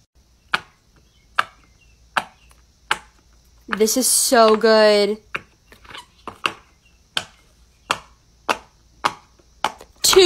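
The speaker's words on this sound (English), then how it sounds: "Let's test out the crab poppet next." Crab-shaped silicone poppet fidget toy being pressed, giving a steady series of sharp, close pops about one per second, with a short burst of speech in the middle.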